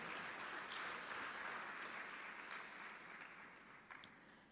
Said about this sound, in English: Let us give a big round of applause for all our achievers.